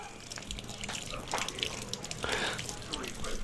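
Tap water from the Nawasa supply runs and splashes from a faucet, a steady hiss with uneven gushes, close by with people talking over it.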